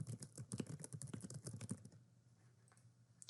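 Rapid typing on a computer keyboard, a close, crisp run of key clicks that slows and thins toward the end, followed by a final tap.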